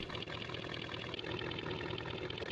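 A NASCAR Cup car idles in the BeamNG driving game, its steady, dense engine rumble sitting close and loud for the whole stretch with no voices over it.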